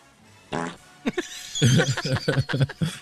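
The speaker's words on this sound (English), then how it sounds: "Farts are never not funny." A loud, close fart made of several sputtering bursts that gets choppier toward the end, with snickering laughter mixed in.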